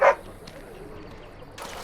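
A dog in the video game Dragon Age: Origins gives a short, sharp bark at the start, then a quieter stretch and a second burst of noise near the end.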